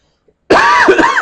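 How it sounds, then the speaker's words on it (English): A single sharp, loud cough from a person close by bursts out after a moment of silence and carries on as a rough, throaty hack, with no talking. "I wish I could get rid of this cough today."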